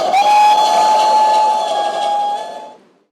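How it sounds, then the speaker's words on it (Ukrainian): A steam locomotive whistle recording played from a city sculpture in Shevchenko Garden blows one long, loud, steady blast of about three seconds, then cuts off. "У саду Шевченко лунає гудок паровозу."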